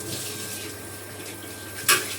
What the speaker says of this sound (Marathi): आता हे 1 तांब्या पाणी आहे ना पूर्ण टाकून देणार आहे मी.